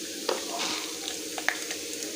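Soft crackling sizzle of mustard seeds in hot oil, with small sharp pops scattered over a low frying hiss.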